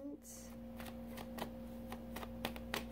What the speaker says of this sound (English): I am just going to shuffle the cards a bit before we start